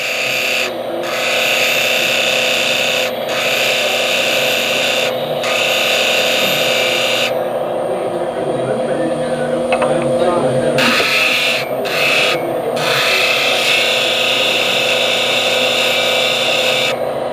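A bench grinder sharpens a lathe cutting tool, the steel rasping against the wheel in repeated passes of several seconds each with short gaps, loud and close over a steady motor whine.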